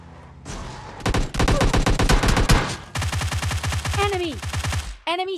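Rapid gunfire rattles through a PUBG Lite battle, with loud close bursts of automatic shots separated by short pauses and a few whooshing game effects near the end.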